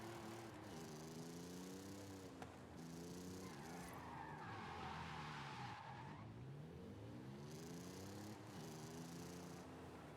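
A sickly-sounding car engine in the Forza racing video game revs up and down in repeated rising and falling sweeps, mixed with bursts of tire skidding, loud and continuous.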